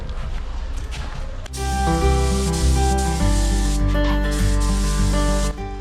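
A partially blocked lacquer spray gun hisses loudly at close range while car paint is sprayed, giving a steady broad spray with a strong sustained droning hum beneath it, with no talking.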